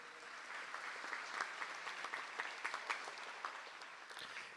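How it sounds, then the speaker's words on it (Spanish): A congregation at Mass in the Basilica of Caacupé claps in sustained, moderately distant applause with dense overlapping hand claps. "Un fuerte, fuertísimo aplauso."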